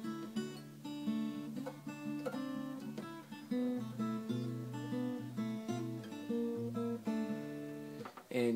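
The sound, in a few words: fingerpicked guitar in open D tuning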